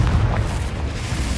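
A Confringo blasting spell explodes in Hogwarts Legacy, a loud, dense booming roar with heavy low rumble that fills the whole moment without a clear break.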